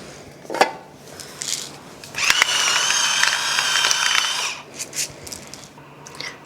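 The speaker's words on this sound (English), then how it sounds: "I'm just gonna hit it with a tiny bit of salt and pepper" A pepper or salt grinder cranked over a creamy chicken sauce for sheet pan lasagna, heard as a close, steady ratcheting grind lasting about two seconds, with scattered small clicks and kitchen handling sounds around it.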